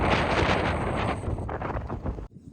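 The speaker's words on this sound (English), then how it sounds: "It is really windy here" Strong wind buffets the microphone in an open field in front of a castle at Lindisfarne, a loud roaring rush that surges and then drops off abruptly.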